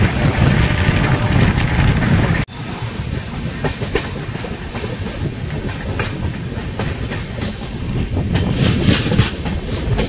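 The 18047 Amaravati Express, running from Shalimar toward Visakhapatnam, rolls along the rails with a loud, continuous rumble and rhythmic clickety-clack, heard up close with wind buffeting the microphone.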